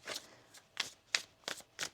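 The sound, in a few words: shuffling tarot cards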